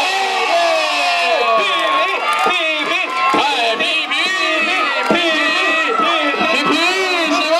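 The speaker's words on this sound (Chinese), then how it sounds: "就让我们以最热烈的掌声来欢迎我们的皮皮姐姐" A crowd cheers and shouts loudly and continuously, with many excited voices overlapping as a Pink Lady performer is welcomed at a Tom's World carnival show in Kaohsiung.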